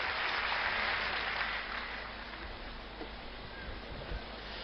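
An audience welcomes a performer with loud applause, dense clapping that peaks at the start and then settles into a steady, slightly muffled wash.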